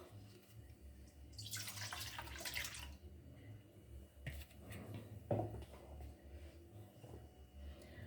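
Warm milk, one cup, poured at home for cinnamon roll dough, giving a short liquid splash and trickle, moderately close, followed by light handling clatter with a low background hum and no talking.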